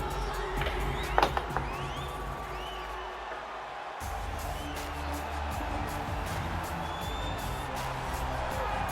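A large arena crowd roars steadily in the UFC 4 video game, with scattered whoops and shouts during a Nunes vs Anderson bantamweight title fight.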